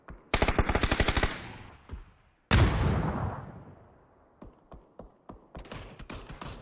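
Gunfire in a PUBG esports match: a fast automatic burst, then a single heavy blast with a long fading tail, followed by scattered lighter shots and a final rapid volley, loud and mostly free of talk.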